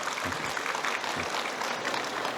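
Audience applause at an architecture fair seminar in BEXCO, Busan, a sustained burst of clapping from a seated crowd greeting the architects.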